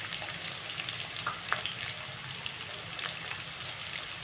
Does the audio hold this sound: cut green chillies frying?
yes